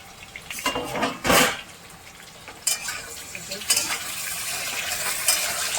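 Potatoes fry in a pan for a ridge gourd and potato curry, with a steady sizzle broken by several loud bursts of stirring and scraping of a utensil against the pan.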